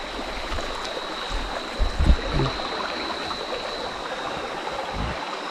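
A forest river flows at night with a steady broadband rushing wash, a few nearby splashes and knocks in the middle, and a faint constant insect whine above.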